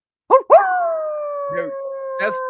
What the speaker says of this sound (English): That's not a dog. That's a wolf, dude.